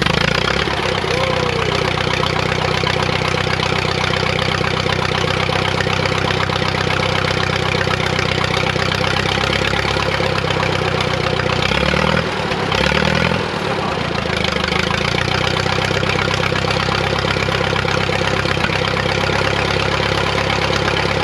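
A 1948 Silver King tractor engine runs without a muffler, a loud, steady open-exhaust idle that drones on throughout with a brief dip partway through.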